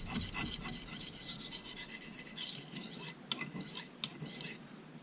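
Kitchen knife stroked across a Smith's fine diamond sharpening stone, steady raspy scraping strokes repeating up close, a few sharper accented passes near the end, no talk.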